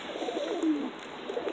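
A pigeon coos softly once or twice at close range, a low, rounded call over a faint steady background hiss.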